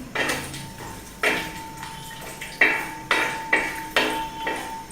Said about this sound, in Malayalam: ഇനി ഈ നെയ്യ് ചൂടായി കഴിഞ്ഞിട്ട്, അപ്പോൾ ആദ്യം നമ്മൾ അണ്ടിപ്പരിപ്പിട്ടിരിക്കുക.